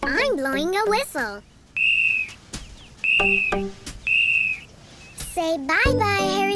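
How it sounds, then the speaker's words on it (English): A toy whistle blown by a child in a toddler learning show, three loud, sustained, high piercing blasts separated by pauses, with a voice talking before and after. "Hear me? I'm blowing a whistle."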